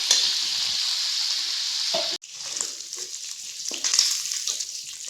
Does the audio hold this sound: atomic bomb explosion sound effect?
no